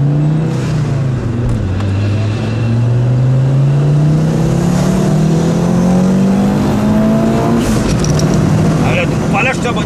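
A turbocharged Audi S2 engine revs up through several gears, pitch climbing and dropping with each shift, loud and close, with voices over it.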